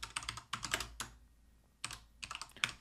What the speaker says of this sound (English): I'm going to type in a tooltip here just for the fun of it.